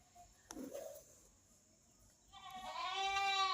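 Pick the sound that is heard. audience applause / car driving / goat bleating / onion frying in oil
goat bleating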